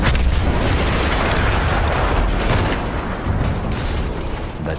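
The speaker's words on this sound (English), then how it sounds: "That explosion was one of the sweetest sights of the war for me." Battlefield 1 explosion in the game, a loud, dense rumbling blast that fills the whole clip with sustained low roar and crackling debris, no talk over it.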